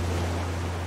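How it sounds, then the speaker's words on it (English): Rough, unforgiving ocean waves in the survival game Raft give a steady loud wash of water with a low rumbling drone, brief and unbroken, with no talk. "these waves are not forgiving"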